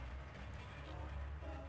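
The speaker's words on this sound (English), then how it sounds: "Oh no, that's the train." A train rumbles past in the video game Chulip, a low, steady rolling drone with faint rail clatter, quiet and continuous throughout with no voices.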